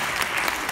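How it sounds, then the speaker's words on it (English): Crowd applause at a school improv night, a brief steady wash of clapping heard from within the audience. "Round of applause for Steven Steven!"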